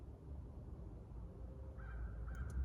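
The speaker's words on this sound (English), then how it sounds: "I'm sitting here in this beautiful, peaceful forest, listening to birds and squirrels" In a quiet, peaceful forest, a bird gives a faint, drawn-out call partway through, followed by a couple of short calls against a soft, low background rumble.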